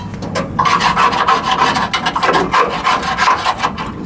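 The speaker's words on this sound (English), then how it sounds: "Do a little bit of scraping" Soot is scraped off a burnt 2016 GMC Yukon Denali in loud, close, rasping strokes that repeat in a steady back-and-forth rhythm with no talking.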